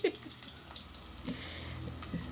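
Purple onions and green spring onions sizzle steadily in hot oil for a Nigerian peppered chicken dish, a close, even hiss with a few soft stirring clicks.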